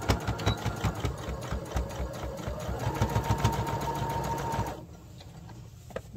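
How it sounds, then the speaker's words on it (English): A sewing machine top stitches around the edge of a baby bandana bib, its fast, steady mechanical whirr running close and continuous before stopping abruptly near the end. "And then we're just going to top stitch all the way around."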